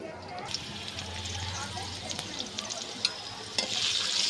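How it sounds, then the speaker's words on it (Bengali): Green chillies and onion hit hot oil, and a sizzle breaks out suddenly and then crackles steadily at moderate loudness, with a voice briefly audible beneath it. "কাঁচামরিচ, পেঁয়াজ তেলের উপর দিয়ে দিয়েছি"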